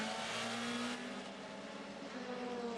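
WTCC touring cars at Paul Ricard race down the straight, engines holding a sustained high drone at a distance, steady and unbroken, with no voices.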